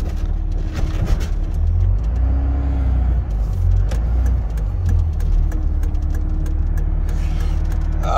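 A car drives along a road in northeast Redlands near Wabash, its engine and tyre rumble heard as a steady loud hum from inside the cabin.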